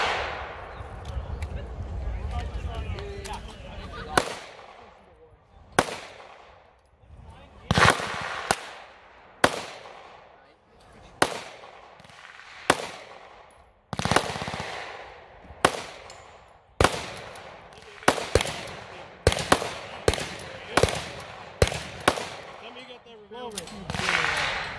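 Sharp, repeated 9mm pistol shots from a Taurus GX4XL ring out one after another at steel targets on an outdoor range, loud and close, spaced irregularly with quieter gaps between, with people talking.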